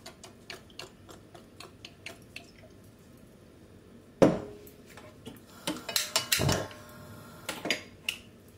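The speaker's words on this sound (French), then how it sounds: "je vais prendre une poêle. Alors voilà, dans ma poêle, je vais venir mettre de l'huile." A frying pan is handled and oil poured in while cooking potatoes and chicken, with quiet clicks and ticks, then a clunk of the pan followed by a short trickle of pouring liquid and a few soft knocks.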